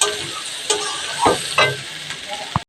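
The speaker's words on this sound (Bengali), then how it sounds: "এগুলোকে একটু ভাজা করে নিচ্ছি।" Potato and soybean chunks fry in a pan for a vegetarian dish, giving a steady close sizzle broken by a few sharp stirring scrapes and clacks, with no talking.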